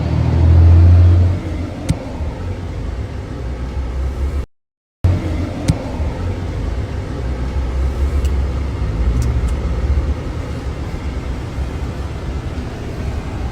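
Car driving on a road in Jamaica, a steady engine rumble with road noise from inside the vehicle, loud at first and broken by a brief dropout.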